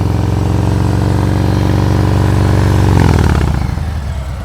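A motorcycle engine runs at slow speed during practice maneuvers, a loud close steady chug that swells slightly around the third second and then eases off as the revs drop.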